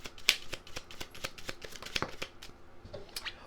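Tarot cards are shuffled by hand in a quiet room, a run of crisp, irregular snaps and soft riffling flicks at close range, with no talking.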